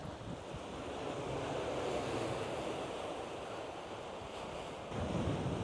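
Sea waves washing onto a rocky, pebbly coast along the Yeongdeok Blue Road, a continuous rolling surf roar with gusty wind buffeting the microphone and a fresh surge near the end.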